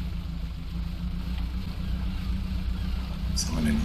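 A faster boat engine in the fishing game DREDGE hums at a steady low drone throughout, close and continuous, with a brief bright splash-like sound near the end.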